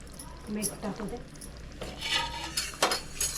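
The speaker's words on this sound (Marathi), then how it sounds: "आपण पुन्हा एकदा आता प्लेट ठेवतोय" A plate is set over a pan of crab gravy, with clinks and scrapes of metal cookware against a faint background sizzle.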